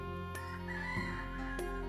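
Chickens in the farming video game Dotage, synthetic clucks and a crow-like call over a steady droning game music bed, fairly faint and close.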